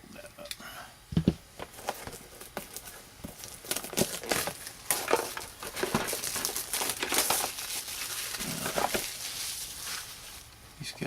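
Cardboard and plastic packaging from a Warhammer 40k Primaris Aggressors kit is folded and crinkled up close, irregular crackles and rustles running throughout.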